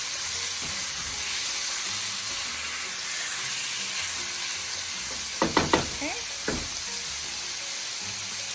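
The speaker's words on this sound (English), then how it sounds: "Let me just get those onions just slightly tender, not all the way translucent" Onions softening in a pan for beef stroganoff give a steady broadband sizzle throughout, with a few sharp knocks and scrapes of a utensil against the pan near the end.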